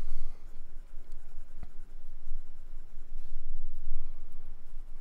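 Wet fountain pen nib writing on 90-gram Optic Paper, a close, continuous soft scratching with small rhythmic strokes and one sharp tap partway through.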